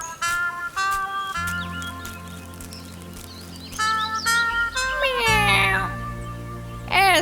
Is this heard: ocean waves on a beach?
no